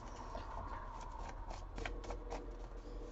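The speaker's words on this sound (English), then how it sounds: "Do you want me to shuffle again?" A deck of playing cards being shuffled, a steady close riffling and rustling across the whole stretch, fairly quiet and continuous with no voices over it.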